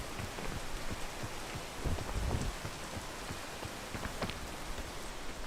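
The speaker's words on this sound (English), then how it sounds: "Of course, it's raining again." Steady rain pours down in a video game, a dense continuous hiss with scattered droplet ticks and a few soft low rumbles, no voices over it.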